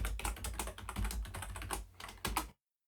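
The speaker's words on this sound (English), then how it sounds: "it's asking for the password for Jim, so I'll type that password in" A password is typed on a computer keyboard in a quick run of close, crisp keystrokes lasting about two and a half seconds, with a short pause near the end.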